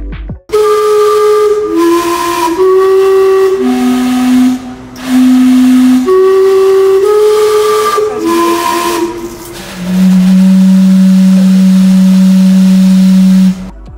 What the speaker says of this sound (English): Gastown Steam Clock, a famous tourist attraction built in 1977 that whistles and puffs steam every 15 minutes